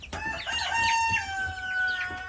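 Chickens in a shed converted into a coop crow and cluck close by, with a rooster's drawn-out crow over scattered clucks.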